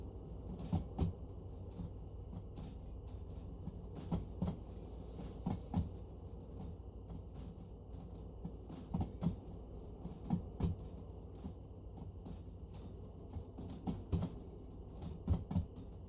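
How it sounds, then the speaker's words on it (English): A long freight train of roughly 340 meters rolls along in the Derail Valley game, a steady low rumble broken by irregular creaks and clunks of wagons, moderately quiet and with no talk. "This is gonna be a 340 meter train, roughly."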